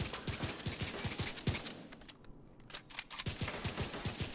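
The Merciless exotic rifle fires in the shooter game The Division 2, with rapid bursts of sharp, punchy gunshots, a brief lull, then another volley, loud and close.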